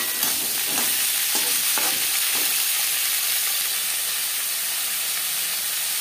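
Drumstick (moringa) stalks stir-fried in a pan, a steady loud sizzle and hiss with a few scraping stir strokes early on, no talking.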